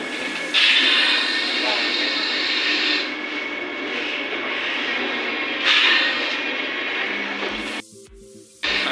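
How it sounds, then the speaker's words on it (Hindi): Interior of a Vande Bharat Express train as it starts to move off, a steady rumbling hum with a bright hiss and brief swells, passengers talking over it. "अभी जो है ट्रेन स्टार्ट हो चुकी"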